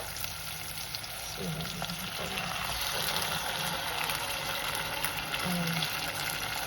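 Sardines sizzle and fry in a pan, a constant close crackle with watery bubbling and a couple of faint scrapes.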